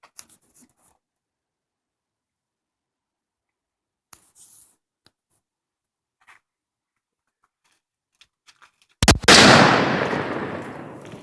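A four-pound charge of Tannerite blowing up a shrub outdoors, heard after a quiet stretch with a few faint clicks and rustles: a single sharp, loud blast followed by a long, fading rumble.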